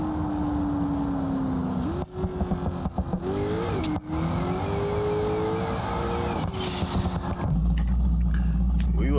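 A big-tire twin-turbo Chevrolet Nova in the BeamNG.Drive game, its engine droning loud and steady with rising and falling pitch as the tire spins, brief dips between shifts, ending in a heavy low rumble.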